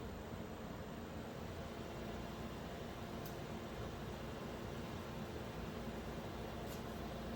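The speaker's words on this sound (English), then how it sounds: "These fans are honestly pretty dang quiet at max." Cooling fans of a KS0 Ultra Kaspa miner spin at maximum speed, giving a steady, even, quiet whoosh of airflow that holds constant throughout with no talking.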